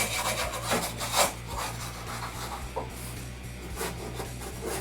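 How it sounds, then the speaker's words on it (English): Wire brush scrubbing rust on the tail panel of a 1969 Charger, a quiet raspy rubbing in short repeated strokes over a steady low electrical hum. "get everywhere I can with this wire brush"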